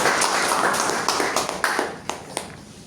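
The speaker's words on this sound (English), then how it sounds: "let us give a big round of applause to all the speakers" Applause for the speakers at a Toastmasters club meeting, a dense wash of many hands clapping nearby that thins out into a few scattered claps near the end.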